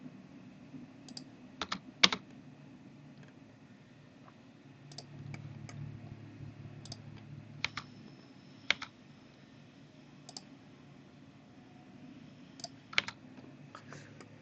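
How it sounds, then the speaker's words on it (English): Computer keyboard keys and space bar tapped sporadically during CAD drafting, soft isolated clicks with scattered louder presses and quiet gaps between them, close and faint. "I'm hitting my space bar and I'm zooming in. Space bar to repeat last line. Click, space bar, enter, space bar, repeat last command."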